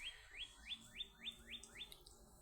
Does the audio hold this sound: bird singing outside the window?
yes